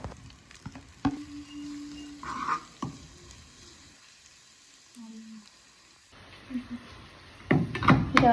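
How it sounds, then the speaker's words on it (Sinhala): Chopped onions frying in a pan, with intermittent sizzling and stirring scrapes, quiet gaps, and a louder burst of crackling toward the end. "ලුණු ටික අපි චූඩියට කපාගෙන ඕකටම දාගෙන බැද ගන්නවා ලුණු ටික"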